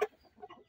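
A young rooster of about 350 to 400 grams gives a single short, faint cluck, with brief quieter rustles trailing after it.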